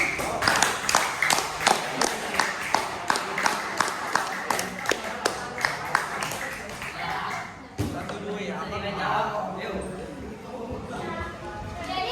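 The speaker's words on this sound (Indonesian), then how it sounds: "tepuk tangan untuk kelompok 1" Students clap for a group presentation during an Islamic religious education class at a middle school, a run of sharp, evenly spaced claps over roughly eight seconds, then the clapping fades into a murmur of classroom voices.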